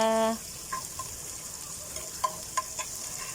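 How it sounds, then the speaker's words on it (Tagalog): Onions sautéing in a pan with garlic: a soft steady sizzle broken by a few light scrapes and clinks of stirring, close and moderate in level, following a short tonal beep at the start. "Yan, sunod na po natin ang sibuyas. Siyempre, haluin po natin ulit. Gisa-gisa, gisa-gisa."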